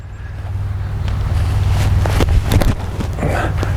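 Outdoor headwind buffets a microphone on a disc golf course, a loud steady low roar of wind noise with faint clatters and brief thumps over it.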